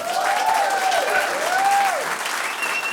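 Dense, sustained clapping from a large audience at an Indigenous arts awards ceremony fills the room evenly for the whole stretch, with a faint whistle or tone gliding over it.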